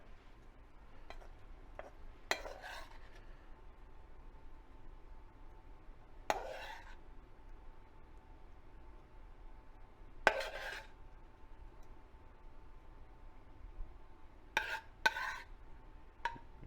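Stir fry is spooned out of a pot onto a plate, giving a few sparse, quiet clinks and scrapes of metal utensils against cookware, separated by long hushed gaps.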